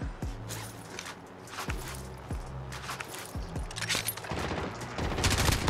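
Call of Duty: Warzone gunfire crackles in sharp, repeated shots at a moderate distance, forming a brief fusillade with mechanical clatter between the reports.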